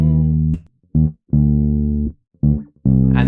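Bass guitar plays a simple, squared-off rock feel, five clean sustained notes with gaps between them, close and alone.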